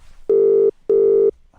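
Two long, steady electronic ring tones from a telephone call, each lasting under half a second and separated by a short silence, loud and close with nothing else around them.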